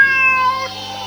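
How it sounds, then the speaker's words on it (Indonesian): A single clear cat meow, drawn out and tonal, rising then fading, close and fairly loud with nothing else. "itu suara kucing."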